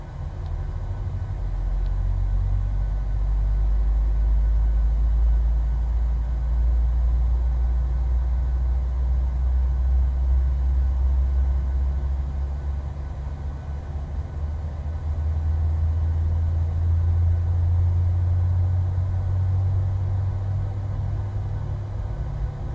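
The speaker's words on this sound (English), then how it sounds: "we will hop over to the wing so we can hear the beautiful sounds of the 737-700" Boeing 737-700 jet engines in Microsoft Flight Simulator hum at a steady low rumble throughout, with a droning tone that slowly swells and settles; no voices.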